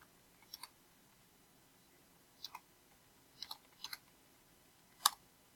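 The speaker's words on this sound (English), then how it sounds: "Okay, I need to stop typing and not speaking." Sparse computer keyboard typing with soft clicks in small clusters of two or three keystrokes, separated by pauses, quiet and close with no speech.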